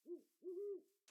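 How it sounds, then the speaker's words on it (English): An owl hoots twice, a short low call followed by a longer drawn-out one, clear and fairly close against a quiet background. "I heard there's an owl among us."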